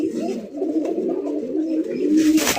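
A red chulli pigeon coos softly and continuously at close range, low murmuring calls running throughout, with a brief burst of hissy noise at the end.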